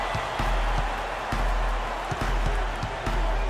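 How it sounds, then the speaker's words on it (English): Arena crowd noise swells in an NBA 2K16 basketball game, a broad roar of cheering with rhythmic thumps running underneath, with no clear talk over it. "now the crowd really getting into it"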